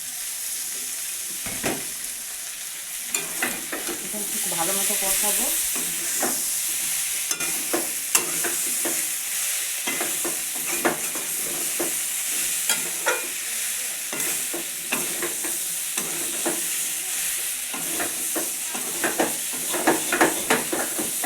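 Beans and potatoes sautéed with spices in a pan over a newly built clay stove: steady frying sizzle and hiss under repeated close stirring and scraping strokes, irregular throughout, with no voices.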